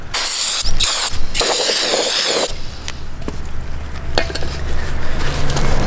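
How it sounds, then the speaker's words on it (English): Brake cleaner sprayed from an aerosol can onto a new brake rotor for a BMW E90, a loud continuous hiss for about two and a half seconds, then cut off, followed by quieter shop clatter and light handling noises. "you just can use any type of brake cleaner on it"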